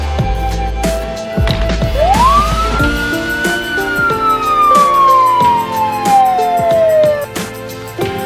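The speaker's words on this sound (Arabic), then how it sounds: "بوليس موتورسايكل دراجة نارية للشرطة." A police motorcycle siren winds up quickly and then slowly falls in a single long wail, loud and close, over a low engine rumble and background music.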